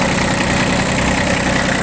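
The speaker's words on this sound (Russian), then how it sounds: "Двигатель работает ровно." A Kubota B40 four-wheel-drive mini tractor with 620 hours on its three-cylinder diesel idles steadily up close, a smooth, even rumble with no other sounds.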